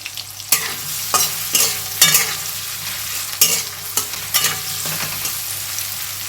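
Vegetables and green chilies are being sautéed in hot oil for a potato curry. Repeated scraping stirs, about eight of them, cut in and out over a steady sizzle, close and clear, with no talking.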